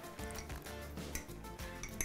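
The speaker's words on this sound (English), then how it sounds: "You just want to give it a pretty good stir" Eggs stirred in a cup with a utensil, quick irregular clinks and scrapes against the container, fairly faint and close, with no talking.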